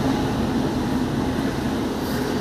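Steady, continuous rumble of a Howrah–Amta local passenger train running, a dense mechanical roar with a low hum throughout and no voices.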